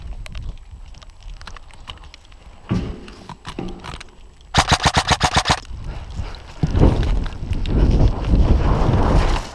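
Video game shooter gunfire from an SSR-15 rifle, with scattered shots, then a rapid rattling burst of about a dozen rounds in the middle, followed by heavier loud firing toward the end.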